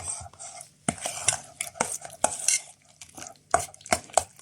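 A homemade face cream mixture is stirred in a container, producing uneven clinks, taps and wet scraping strokes close to the listener, with quiet pauses between bursts and no speech.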